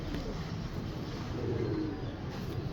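Pigeons in a breeder's loft give low, soft cooing that rolls on continuously, close by, with faint background noise and no clear speech.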